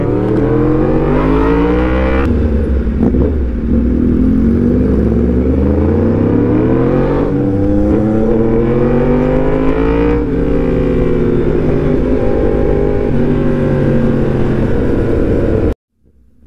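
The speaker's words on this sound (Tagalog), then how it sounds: "Bastos ang tunog ni MT-09." A loud, close Yamaha MT-09 motorcycle engine revs up and down repeatedly, its throaty roar rising and falling for several seconds before cutting off.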